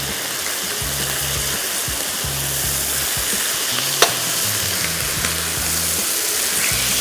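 Chicken sizzles loudly on a hot grill pan as the pieces are turned, an even close crackle with a brief clank midway, no talking.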